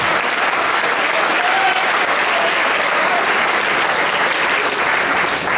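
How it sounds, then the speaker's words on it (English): A large audience applauds judge Chris White at a boys' Shakespeare competition final and awards ceremony, a steady, loud wash of clapping that continues evenly from start to finish with no talk over it. "let's give a round of applause to Judge Chris White"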